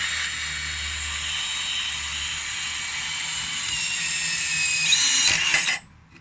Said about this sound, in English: I shall run it with a hex to 1/2 inch adapter on a drill.